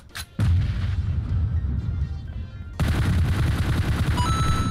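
Bombing explosions in a PUBG match hit as heavy booming blasts with rumbling low roar, a sharp burst near the start and another surge midway that keeps thundering to the end.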